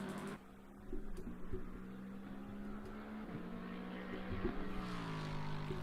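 A race car engine in the Assetto Corsa Competizione racing game, running in an 8 Hours of California race at Laguna Seca. It gives a steady, faint, buzzing harmonic drone whose pitch shifts slightly as the car goes through gears and throttle changes.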